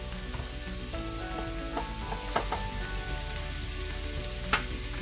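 Butter sizzles steadily in a hot pan beside cooking burger sliders, a continuous soft frying hiss with a few faint clinks of utensils, no voices.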